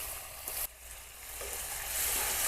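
A spice paste of salt, cumin and ground masala sizzles steadily in a pan while being stirred and sautéed for a village-style chicken biryani, a continuous close frying hiss with brief scraping bursts.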